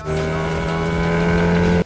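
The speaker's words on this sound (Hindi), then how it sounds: "और बहुत सारे लोग वहाँ बाइक लेकर आने लगते हैं।" Several motorbikes arrive with a continuous, loud engine drone that stays steady for nearly two seconds and then drops out suddenly near the end.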